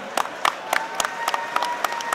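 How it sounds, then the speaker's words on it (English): Applause from a fight-night crowd at a Muay Thai bout in the ring, sparse, moderate-level claps with a few sharper bursts and a faint tonal hum running beneath. "please a massive round of applause for both fighters"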